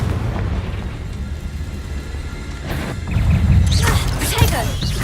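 Fiery blast from the Confringo spell in Hogwarts Legacy, a loud booming burst with crackling debris and swirling magical whooshes, layered over game music and clatter, a voice casting the spell nearby.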